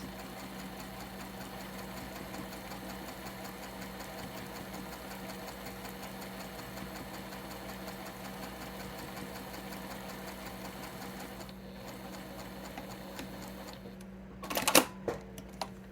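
A sewing machine backstitches quilt block pieces for a gnome-themed album block, holding a steady, even motor whir for about eleven seconds before stopping, followed by a few sharp handling clicks.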